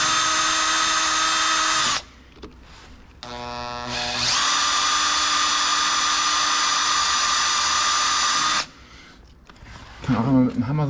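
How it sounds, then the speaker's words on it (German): A cordless screwdriver drives a wood screw into an old shaft seal on the ZF axle of an IHC 733 tractor. It whines loudly up close in two long runs separated by a brief pause with short stuttering bursts, followed by a moment of talk. "jetzt im alten Wellendichtring einmal mit dem Akkuschrauber und Schraube, nur Holzschraube, einmal ein Loch einbohren, dass die Schraube sich reinzieht"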